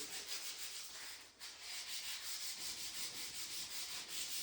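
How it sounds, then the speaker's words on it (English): Steady abrasive scrubbing against a hard surface of an old front-engine dragster under restoration, continuous back-and-forth rubbing with a brief pause near the middle, close and fairly loud, no voices. "we just keep scrubbing for the night"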